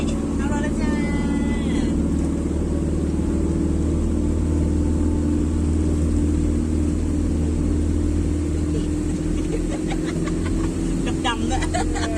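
A car driving through waist-deep flood water in Korat, Thailand, a low rumbling engine and continuous water wash beneath people talking throughout.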